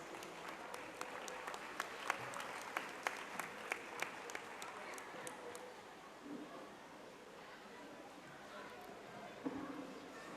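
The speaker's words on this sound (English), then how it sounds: "round of applause, please" Audience applause at a medical service award during a school valedictory function, a steady patter of clapping that fades somewhat after six seconds, heard at moderate distance.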